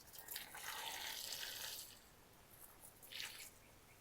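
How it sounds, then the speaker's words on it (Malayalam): Fresh water runs into a container of cocopeat being washed for plants, a soft trickling and splashing stream that fades after a couple of seconds and returns briefly, faint and close with no voices. "പുതിയ വെള്ളം നിറക്കുക."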